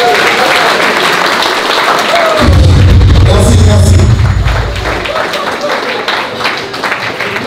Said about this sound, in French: applaudissons pour tout le monde